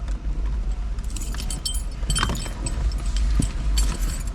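Car keys jangle inside a Mercedes-AMG convertible with the top down, a few light metallic clinks over a low steady engine idle and faint road rumble.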